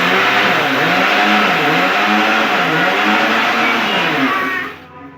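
A kitchen mixer grinder whirs continuously while batti dough is being prepared. The motor drones loud and close with a wavering pitch, then winds down and fades near the end.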